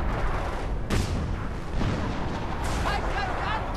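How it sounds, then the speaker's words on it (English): Artillery shells fall and explode in a war video game, a dense, loud rumble broken by sharp blasts, with a voice briefly audible. "Oh, artillery?"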